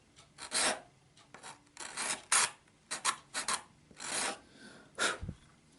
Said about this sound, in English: pastel is like a dust when you scrape it off